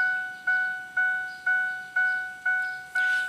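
A 1999 Ford Explorer warning chime sounds with the key out of the ignition, a steady series of seven clear electronic dings about half a second apart, close and loud with nothing else over it.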